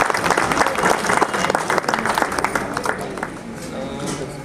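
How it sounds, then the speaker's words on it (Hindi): Loud, dense applause fills the room at a retirement party, many people clapping together and then fading slightly toward the end, with faint voices underneath. "जोरदार तालियों"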